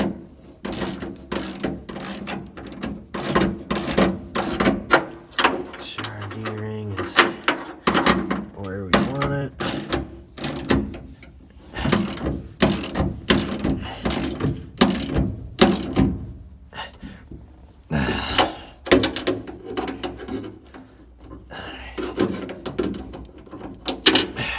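Bolts being tightened with a ratchet during a makeshift repair, giving repeated quick clicking bursts in an uneven rhythm, close and fairly loud, with a person talking in between.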